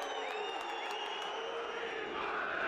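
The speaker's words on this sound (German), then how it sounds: "Das Publikum aufgebracht" An agitated football stadium crowd at a German regional league match between FC Carl Zeiss Jena and VfB Auerbach, a sustained wall of shouting, whistling and jeering voices, loud and continuous throughout.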